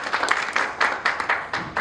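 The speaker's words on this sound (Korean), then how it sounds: "다시 한번 수고해 주신 교수님께 큰 박수 부탁드립니다." Seminar audience at a Korea-US security session applauds a professor after his talk, a lively burst of many hands clapping in uneven surges, fairly close and loud, with no voices over it.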